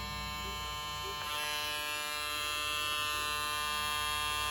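Caliber .22 Stinger hair trimmer running with a steady, close electric buzz and hum that holds even throughout, fairly quiet, with no talk.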